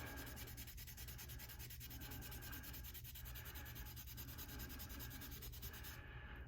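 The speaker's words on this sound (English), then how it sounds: "we are sanding off the scratches from the previous more coarse grit" Steady, continuous sanding of an estate tobacco pipe to remove scratches, a coarse rhythmic scratching of abrasive against a hard surface, close up and unbroken, with no voices.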